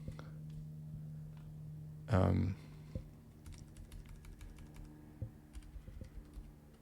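Someone types a username on a computer keyboard, a scatter of soft, close key clicks after a short burst of speech, light and irregular.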